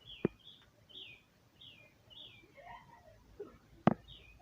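Jamaican doctor bird (streamertail hummingbird) giving a series of short, high chirps and tweets through a quiet outdoor setting, with two sharp clicks standing out above soft background noise.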